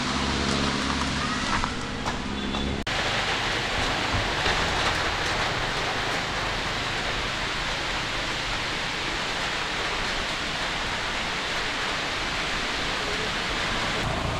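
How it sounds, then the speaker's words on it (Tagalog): Heavy rain pours steadily during a solo bicycle ride on a Giant Revolt 2 gravel bike, a dense, loud, continuous hiss that fills the scene with no talk. "lakas ng ulan"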